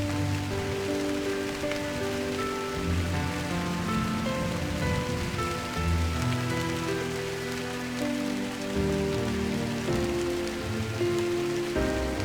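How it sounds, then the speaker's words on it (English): Light drizzle falls at early dawn in the game Drizzlepath: Genie, a steady soft patter of rain spread evenly under sustained music throughout. "I woke to a morning of light drizzle"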